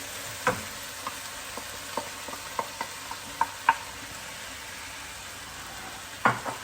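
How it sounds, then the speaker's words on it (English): Beef fries and sizzles in a pan as soy, oyster and fish sauces go in for Mongolian beef with spring onion, with a steady soft hiss broken by scattered clicks and taps of stirring. "So now I'm going to add the sauce, or rather, sauces."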